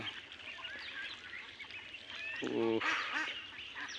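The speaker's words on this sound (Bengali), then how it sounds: "ওই যে হাঁস, আমাদের হাঁসের বয়সের সমান বড় হাঁস যে ছিল" Ducks on a farm give a short burst of honking quacks midway, standing out over a faint murmur of farmyard background and distant voices.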